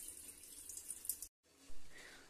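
Water is poured off rice being washed in a pot, a close splashing trickle that stops briefly and then resumes with a fuller gush, with no talking over it.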